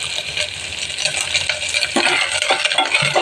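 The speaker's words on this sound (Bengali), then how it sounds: "নারকেলগুলো একটু লাল লাল হয়ে গেছে, আর একটু ভাজবো নারকেল" Coconut frying in a pan while being stirred, a steady broadband sizzle with scraping and clinking utensil strokes growing busier toward the end, close and fairly loud, no voices.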